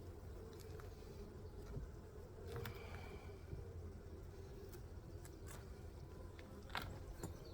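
Honey bees swarm around an open beehive, a steady, faint, droning buzz that holds throughout, with occasional insects passing close by.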